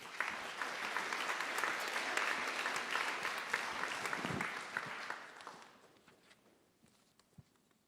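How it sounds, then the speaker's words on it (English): An audience at a board of trustees platform event gives a round of applause, a continuous wash of clapping heard from a distance that holds for about five seconds, then thins out into a few scattered claps. "Let's get a round of applause."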